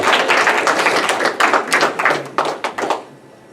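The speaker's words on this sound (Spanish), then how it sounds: "Otro aplauso para nuestro Señor" Church congregation claps together in a hall, a dense, loud round of applause that breaks into a few separate claps before stopping abruptly.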